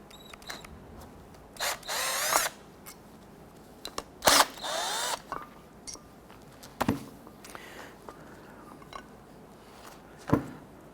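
A power tool with a 14mm socket spins off caliper bracket bolts on a Nissan Frontier brake job, giving several short loud whirring bursts between quieter clicks and handling noises, close up, no talking.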